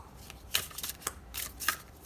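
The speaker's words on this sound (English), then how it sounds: "Are we done shuffling yet? Because this is a lot of shuffling." A tarot deck, the ghost deck, being shuffled, giving soft, quick papery riffles and flutters in several short bursts, close but faint.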